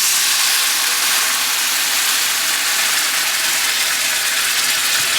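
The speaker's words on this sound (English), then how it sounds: "Add some wine." Wine hitting a hot pan after garlic, a loud, steady broadband hiss of sizzling and steam that holds without a break, no voices.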